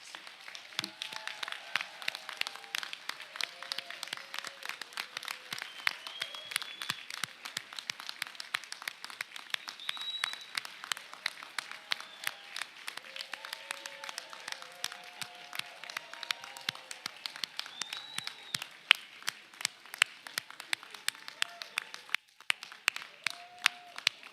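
Steady audience applause fills a graduate hooding ceremony for a diplomacy school, a dense wash of many hands clapping at moderate distance that holds for the full stretch with sharper individual claps standing out.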